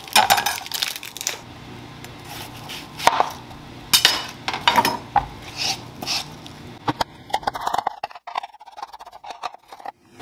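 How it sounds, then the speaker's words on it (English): Knife cutting up an onion for bok choy with black bean sauce and tofu mince, sharp irregular chops and taps on a board, close and crisp, easing into lighter scraping near the end. "or rather cut up our onion."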